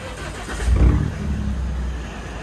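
A deep, throaty straight-pipe exhaust on a Mahindra Scorpio S11 SUV rumbles close by, swelling in one short rev before settling back to a steady low idle.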